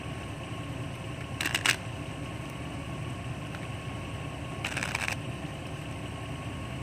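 A deck of cards is shuffled in two short, crisp bursts, a few seconds apart, over a steady low background hum in a quiet indoor setting.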